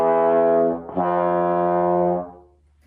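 Low F passage on trombone starting in seventh position: a held low note, a quick shift, then a long sustained tone tapering away, played alone and up close.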